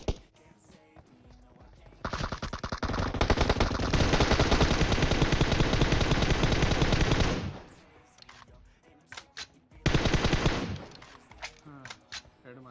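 Gunfire in the mobile battle-royale game PUBG Mobile: a single opening shot, then a long sustained burst of rapid automatic fire, a short pause, and a second shorter burst, loud and close with faint sounds in the gaps.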